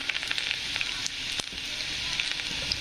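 Chopped garlic frying in hot oil for an egg curry gives a steady, bright sizzle up close, with no talk over it.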